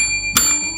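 A single bright notification bell chime rings out once, sharp and clear with a short ringing tail, over a faint steady background.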